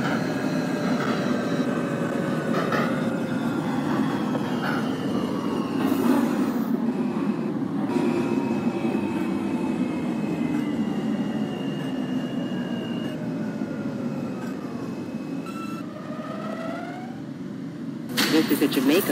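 A simulated NYCT R160A Alstom F local subway train runs with continuous wheel rumble and rising and falling motor whines, and a recorded voice makes announcements over it.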